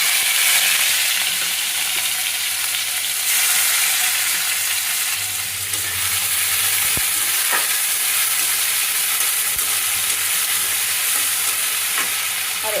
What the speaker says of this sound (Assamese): পিঁয়াজ, টমেটো, জলকীয়াখিনি অলপ ভাজি লৈ